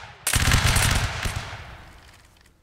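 A line of infantry fires a musket volley in a Napoleonic Wars battle game, one loud ragged crash of many shots that rolls briefly and then fades into a trailing echo.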